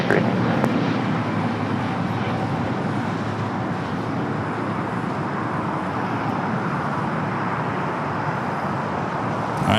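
An Airbus A380 jet departs LAX with a steady, broad engine roar held at a constant loudness, heard from a distance with faint radio chatter beneath it.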